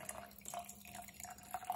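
Water poured into a glass jar to fill it halfway for a galaxy-in-a-jar craft, faint trickling and dripping close by, quiet and without talk.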